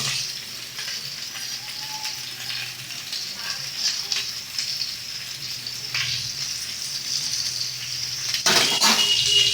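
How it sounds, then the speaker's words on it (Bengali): Vegetables frying in a pan with fried coconut being stirred in, a steady close sizzle running throughout with soft scraping, briefly louder and brighter near the end. "এবার এর মধ্যে দিয়ে দিচ্ছি আমরা ভেজে রাখা নারকেল সুন্দর করে মিশিয়ে নেব নারকেলটা দিয়ে"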